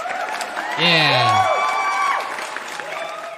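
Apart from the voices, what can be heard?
applause, clapping played as a sound effect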